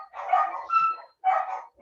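Several dogs bark near a home in repeated bursts, three loud clusters of barking with short gaps between them, close and fairly loud.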